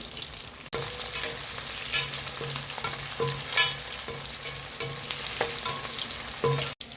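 A sprig of curry leaves fries in oil in a pan for vendakkai puli kulambu, a steady close sizzle broken by repeated spatula scrapes and knocks against the pan, with no talk.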